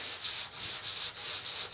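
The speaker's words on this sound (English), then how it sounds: "I gotta finish up with the sanding." Hand sanding on the body of a 1987 Mazda RX7, steady back-and-forth rasping strokes in a quick even rhythm, close and fairly quiet with no voices.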